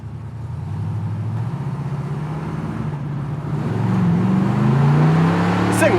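A 1979 Camaro Z28 with its numbers-matching 350 V8 pulls away on a street, the steady low engine drone swelling louder as it accelerates.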